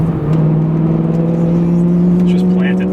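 A BMW E90 M3 on big wheels and tires pulls hard down a clean road, a steady loud engine drone with a strong low tone holding throughout, heard from inside the car with a voice talking over it.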